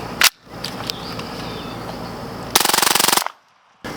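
Suppressed MP5-K firing 115 grain supersonic ammunition in semi-automatic, heard as a lone sharp shot followed by a dense string of rapid, evenly spaced reports, loud and close.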